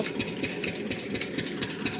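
A village engine pumping water runs in a fast, steady mechanical chug with a rattling beat, close and continuous, while people talk faintly underneath.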